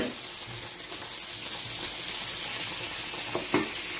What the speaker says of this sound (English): is my onions, garlic and ginger in there frying